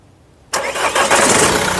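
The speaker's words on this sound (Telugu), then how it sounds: "సింగిల్ సెల్ఫ్లో కార్ స్టార్ట్ అవుతుంది" A 2015 Mahindra XUV500 W6 fires up on a single crank: silence, then a sudden loud catch of the engine that settles into a steady, rumbling idle close by.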